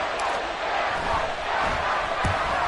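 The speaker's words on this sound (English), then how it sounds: "How about some applause for the defense there." A stadium crowd at an American football game cheering for the defense, a broad steady roar of many voices sustained throughout at a distance, with a couple of faint thuds.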